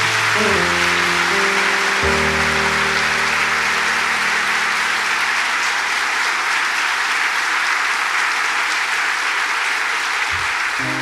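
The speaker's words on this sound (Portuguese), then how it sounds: "Quem crê, aplaude bem forte o nosso Senhor." A church congregation applauds loudly and steadily through a Catholic Mass homily, a dense wash of clapping that holds for the whole stretch, with a low sustained organ-like tone underneath.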